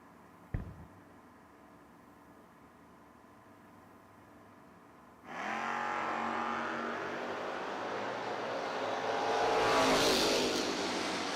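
Drag race cars, a 1975 Chevrolet Vega and a 1968 Camaro, launching at a footbrake drag race: a sharp bang, then a loud sustained engine roar swelling as they accelerate down the track.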